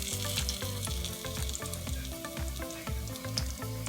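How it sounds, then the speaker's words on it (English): Eggplant slices fry in a pan for a vegan eggplant parmigiana, giving a dense, continuous sizzle with crackling pops and light stirring knocks throughout, close and without speech. "Okay, so we're done frying up the eggplant."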